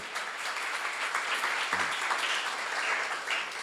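Steady audience applause at a church seminar on Jeremiah, a dense, even wash of clapping from a room full of people, sustained throughout without voices.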